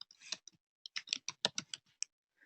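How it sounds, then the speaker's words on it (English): Typing on a computer keyboard: irregular bursts of crisp, close key clicks, a quick cluster in the middle with short pauses between. "here I'm just typing it in"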